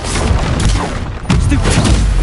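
A sharp fiery blast from the Confringo spell in Hogwarts Legacy, two loud booming bursts about a second apart amid combat noise, close and forceful.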